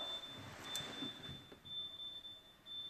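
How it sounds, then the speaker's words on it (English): Oven timer sounding in a kitchen, a steady high-pitched electronic tone that continues with brief breaks over low background noise, no talk. "I have the oven timer going off in the background."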